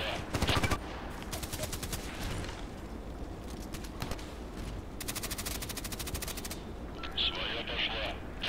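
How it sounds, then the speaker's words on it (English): Bursts of automatic gunfire in the shooter game Contract Wars, several rapid volleys of varying length, some close and sharp, with game sounds between bursts and brief voice in the background. "Quite sure the shooting came from behind"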